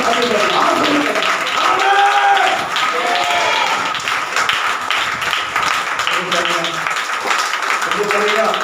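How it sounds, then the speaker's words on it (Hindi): Church congregation clapping hands during a Hindi-language worship service, irregular claps mixed with loud singing and speech voices over most of the stretch, fairly loud and close. "झूठ बोल के ताली बजाओ, कंजूस मत करो।"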